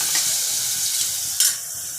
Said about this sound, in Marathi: थोडं हिंग आणि हळद हे टाकून ते घेतलं जाईल हळद टाकून ढवळून झालेलं